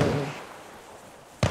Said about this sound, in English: everyone's got great launches these days. Just spamming grenades